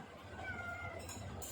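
A cat meows close by in a home during a family meal, one drawn-out, faint cry over a low background hum.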